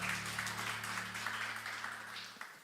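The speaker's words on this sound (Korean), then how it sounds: "우리 서로에게 격려의 박수 하도록 하겠습니다." A church congregation gives a sustained round of clapping during a Sunday worship service, a dense, even wash of many hands at moderate distance over a low steady hum, tapering slightly toward the end.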